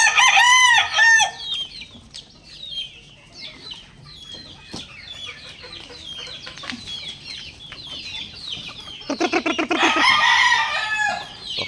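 White Kelso gamefowl in a backyard crow and cluck repeatedly, with loud crows at the start and again near the end, plus scattered clucking and brief wing flaps in between.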